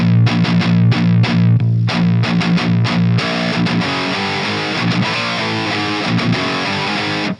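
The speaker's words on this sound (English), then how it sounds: "the distortion in the tube amp sounds a little smoother to me" A loud, heavily distorted electric guitar played through an Orange Rockerverb 50 tube amp plays chugging, choppy chords that open into sustained, ringing distorted chords, all close and forward with no voices.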